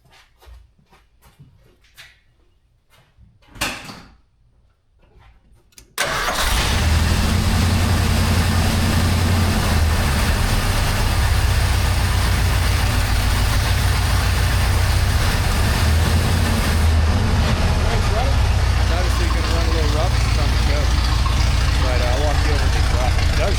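A 1982 Ford F150 pickup with a newly built exhaust cranks and starts after a few quiet seconds of people talking, then settles into a loud, steady low rumbling idle close to the microphone.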